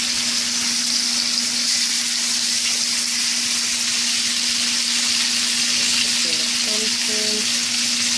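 Jamaican yam and sardine fry in hot oil, a loud, continuous close-up sizzle that never lets up, over a steady low hum, with a few faint tonal beeps near the end.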